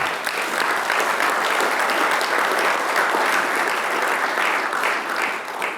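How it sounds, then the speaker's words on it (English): An audience claps steadily after an award announcement, a dense, even applause that holds at full strength for several seconds and fades a little at the end, with no talking over it. "you clapped when I made the announcement"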